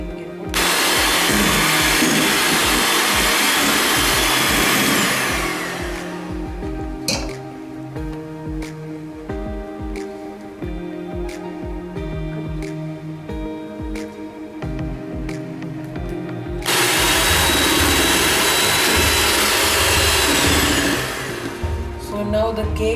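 An electric mixer beats chocolate cake batter in long, steady whirring bursts at the start and again near the end, with a quieter stretch of other kitchen sound between them.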